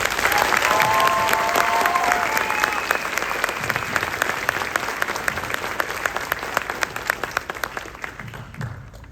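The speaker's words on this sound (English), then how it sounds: "How about a round of applause for us?" High school concert band audience applauding at a spring concert, a loud dense round of clapping with a few whoops early on, gradually thinning into scattered individual claps toward the end.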